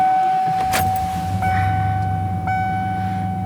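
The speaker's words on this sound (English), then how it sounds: "So what I did was start up the truck." A 1995 Ford truck with a 302 engine idles steadily with a low, even rumble, joined by a few brief clicks and faint electronic chimes, heard close with no talking.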